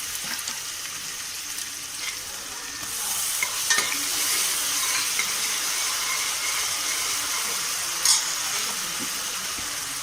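Onion with ginger-garlic paste frying in oil in a pan for a Madurai-style moong dal gravy, a steady close sizzle with light stirring scrapes and a couple of brief clatters.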